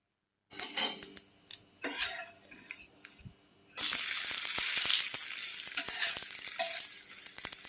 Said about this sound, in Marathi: आता हे डोसे दोन्ही बाजूंनी भाजून घ्यायचे